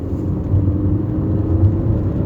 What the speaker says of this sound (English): So we're in first gear, going into second. Accelerating.